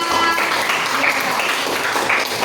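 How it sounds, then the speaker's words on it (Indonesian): A classroom full of people clapping in a burst of applause for a student group, steady and moderately loud, with some voices mixed in. "Berikan tepuk tangan untuk kelompok yang pertama."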